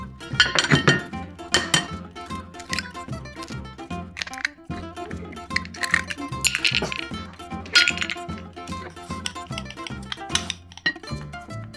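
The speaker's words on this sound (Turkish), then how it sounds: "Ve tabii ki süt ve bütün malzemeleri karıştıralım." A utensil beats pancake batter with milk in a bowl, producing rapid rhythmic clinks and taps against the bowl close by, steady throughout with occasional louder knocks.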